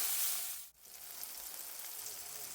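Finely chopped onion hits hot oil with spices for aloo matar and breaks into a steady, close frying sizzle that holds after a brief dip, with no talking.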